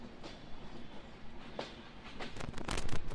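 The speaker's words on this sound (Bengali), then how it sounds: "এই যে আমরা ডিপার্চার নিচ্ছি নোয়াপাড়া রেলওয়ে স্টেশন থেকে" Chitra Express pulling out of Noapara railway station, heard from on board as a steady low rumble of the train rolling, with a few sharp rattles and clanks building toward the end.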